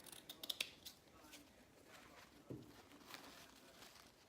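A few quick crisp snips of scissors cutting tulle for a no-sew tutu, soft and close, with faint rustling of the fabric around them.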